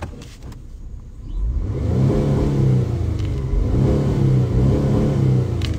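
A sports car's engine turns over and revs up into a loud, steady mid-range roar that swells and dips in a couple of pushes, close by with no talking.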